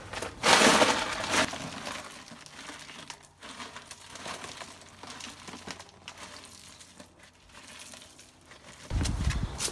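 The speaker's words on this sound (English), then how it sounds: "I'm going to dump all my ice onto my fabric" Ice cubes are dumped onto fabric laid on a rack, a loud rattling crunch at the start, then scattered clinks and shuffling as the pile settles, with another burst of clattering near the end.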